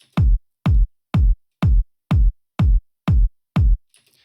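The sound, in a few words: kick drum sample in a house music track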